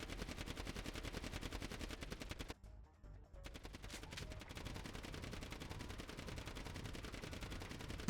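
Gunfire in VRChat, rapid sustained automatic shots firing steadily at a fairly faint level, briefly cutting out for about a second before the bursts resume and keep going.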